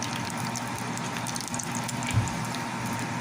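Puris deep-frying in hot oil for an afternoon snack, a dense, steady sizzle and crackle that holds at an even level throughout with no voices.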